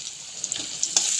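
Chopped onions with green chillies and salt fry in a pan for a lentil and taro-leaf dish, giving a steady, close bright sizzle with small crackling pops and no voices.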